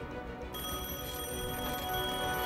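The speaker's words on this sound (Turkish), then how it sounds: "Telefon çalıyor." A telephone rings as a sound effect in a Turkish radio drama, a steady electric bell tone that starts abruptly after a brief quiet moment and keeps sounding at moderate loudness, with no voices.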